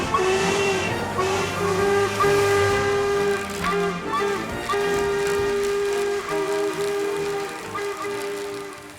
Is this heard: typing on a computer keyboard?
no